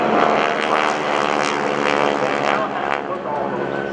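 GEICO Skytypers four-ship formation of propeller aircraft flying overhead at an air show, a loud, steady, droning engine roar with slight pulsing throughout.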